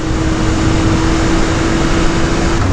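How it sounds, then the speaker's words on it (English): A 2018 Triumph Speed Triple 1050 S motorcycle on a group road ride: a steady, loud engine drone holds one pitch under strong, close wind rush, with no speech. "this bike just wants you to rev it out"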